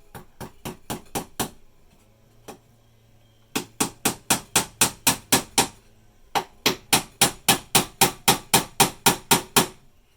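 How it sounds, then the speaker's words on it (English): A tack hammer taps nails in quick, even bursts of sharp strikes, several runs of blows separated by short pauses. "Jeff has an actual tack hammer"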